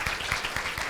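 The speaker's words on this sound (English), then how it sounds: "Let's have a round of applause for all of our educators here at every level." An audience applauds educators at a community forum on transitional kindergarten, a short burst of dense, steady clapping filling the room.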